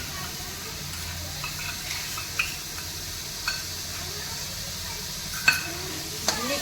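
Masala paste added to oil with cooked-down tomatoes for chole chana masala, a steady low sizzle under repeated clicks and scrapes of a spoon stirring in the pan.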